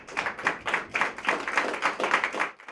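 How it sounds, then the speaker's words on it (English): Members of a Virginia Beach city council stand and applaud city employees at a special meeting, producing steady, moderately close clapping from a small group with no talk over it. "I'd ask that we stand and applaud these wonderful employees."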